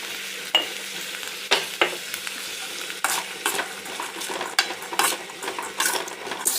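A tempering of chillies, curry leaves and chana frying in hot oil, with a steady sizzle and a spoon stirring and scraping the pan in sharp repeated strokes.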